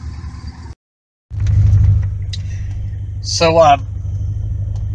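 A 1985 C4 Corvette is driven, just back on the road after a heater core swap, giving a low steady engine rumble and road drone from inside the car that briefly cuts out, then returns with someone talking over it.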